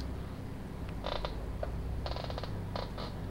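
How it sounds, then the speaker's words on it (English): An office chair on rollers creaks in a few short, scratchy bursts, close by and fairly quiet, with gaps of near silence between them. "My creaky office chair with rollers."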